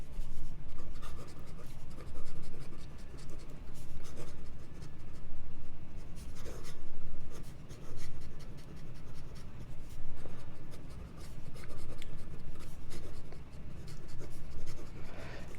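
A Leonardo Momento Zero Grande fountain pen with a number 8 fine nib scratches steadily across paper, a continuous close-up scraping with small rhythmic strokes and brief pauses.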